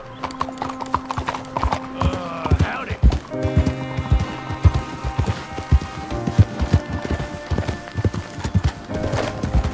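Horse hooves clip-clop rhythmically at a walk in the video game Red Dead Redemption 2, close and steady, with a whinny early on and game music and voices running underneath.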